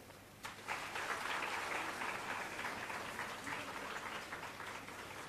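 A seated audience bursts into loud, sustained clapping to welcome a guest onto the stage at a public event, rising sharply after a brief quieter moment and continuing evenly.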